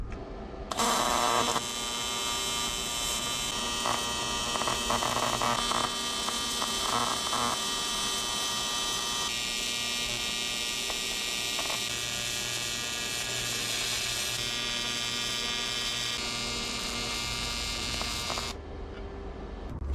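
TIG welding thin aluminum on a junkyard-rescued Honda CRX project gives a steady, loud electric buzz and hum. It begins abruptly, shifts slightly in tone as the arc is worked, and cuts off near the end, with no talking.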